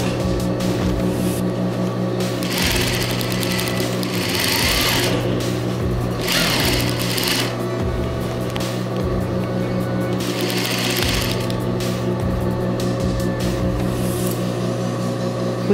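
A sewing machine steadily stitching fabric for a formal gala coat, giving a loud, continuous mechanical whir with faint rhythmic clatter throughout.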